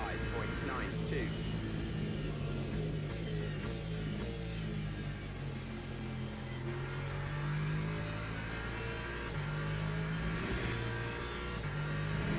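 An LMP2 race car in the Le Mans Ultimate sim racing game drones and revs through the gears as it comes past, engine tones rising and falling continuously beneath someone talking.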